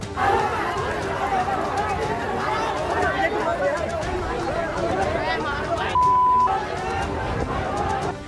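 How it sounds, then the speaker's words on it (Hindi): Unruly crowd at an unauthorised procession in Kashipur, a dense roar of many overlapping voices shouting and chattering close by, continuous and loud throughout, with a brief steady beep partway through. "भीड़ बढ़ी और बवाल शुरू हो गया।"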